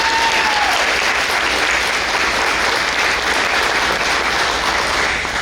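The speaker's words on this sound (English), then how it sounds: "Let's give them a round of applause" Audience at a school district breakfast event giving a round of applause, dense and loud sustained clapping filling the room throughout, with no talking.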